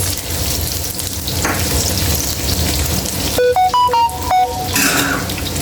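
Garlic and onion sauté in a pan for a home-cooked vegetable dish, a steady close sizzle and crackle running throughout, with a few sharp scraping clinks near the end.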